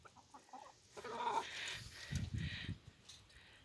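Sonny, a farm rooster, clucks and calls in a few short bursts close by, with hen-like chatter and outdoor farmyard ambience around him.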